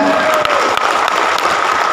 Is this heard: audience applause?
yes